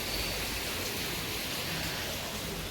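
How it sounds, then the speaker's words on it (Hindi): Heavy rain pours steadily on a home during a monsoon morning, a dense, constant hiss with no breaks and no voices. "आज तो सुबह से बहुत ज़्यादा बारिश है"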